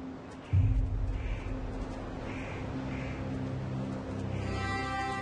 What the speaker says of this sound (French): Les corbeaux qui tournoient dans le ciel l'orientent dans la bonne direction.